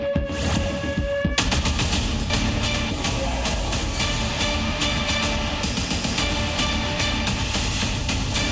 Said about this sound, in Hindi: दो बेखौफ हमलावरों ने ताबड़तोड़ गोलियां चलाई